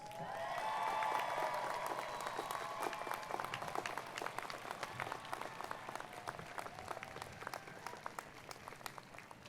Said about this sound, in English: Graduates, would you please honor and thank all of these folks with a great round of applause